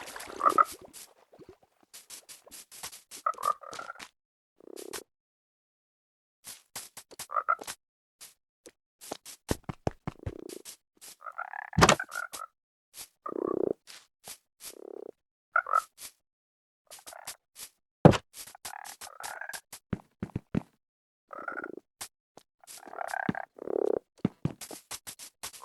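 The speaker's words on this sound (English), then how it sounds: "My froggies are in here and their names are even sillier than the sniffers." Frogs croak in scattered bursts inside a video game server build, short raspy calls clustering in clumps with quiet gaps between, fairly close and clear with no talking.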